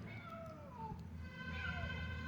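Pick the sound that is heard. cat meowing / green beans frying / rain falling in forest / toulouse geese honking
cat meowing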